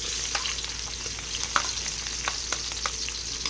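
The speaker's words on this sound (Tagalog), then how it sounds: "Nagpainit lang po ako ng mantika dito. Magigisa po tayo ng sibuyas." Sliced onions sautéing in hot cooking oil in a pan, a steady soft sizzle with scattered light crackles and pops, close and continuous, with no talking.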